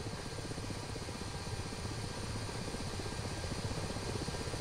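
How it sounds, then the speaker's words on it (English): Steady rotor and turbine drone of a Ka-50 Black Shark helicopter sitting on the ground after landing with damaged gear and nose in DCS World, continuous and loud throughout with no talk. "But that is a helicopter landed."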